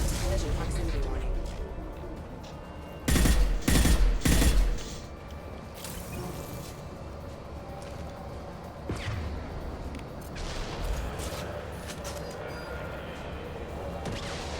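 Gunfire in the video game Mass Effect Legendary Edition comes as a loud burst of rapid shots lasting about a second and a half. Fainter mechanical clanks and game noise follow, with talking over them.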